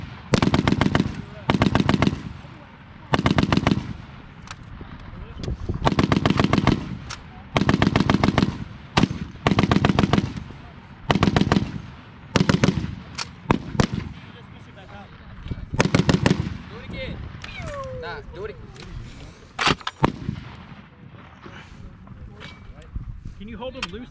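A US Army M2 .50 caliber heavy machine gun fires at Fort Lewis in a string of loud, close bursts of rapid shots, separated by brief pauses and ending in scattered single reports.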